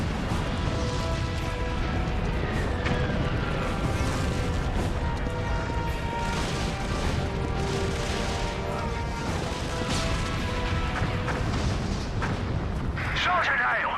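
Mortar and artillery fire rumble and crack continuously in a Resistance: Fall of Man war cutscene, a dense barrage of booms and blasts with voices underneath throughout.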